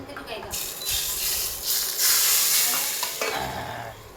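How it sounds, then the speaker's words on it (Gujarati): Hot spice tempering is poured into a dish and stirred, sending up a bright sizzling hiss with scraping stir strokes that swells and fades, close up and without talk. "હવે આ વઘાર થઈ ગયો છે આમાં નાખી દેવાનો છે."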